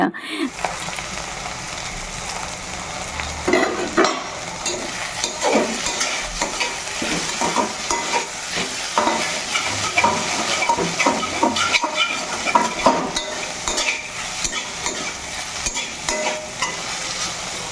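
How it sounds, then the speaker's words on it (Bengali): Okra fries with onion and green chili in a pan, giving a continuous close sizzle with frequent irregular scrapes and clinks of a spatula stirring the pieces throughout. "ঢ্যাঁড়স ভাজা হচ্ছে আর দেখো পেঁয়াজ দিয়ে ঢ্যাঁড়স ভাজা"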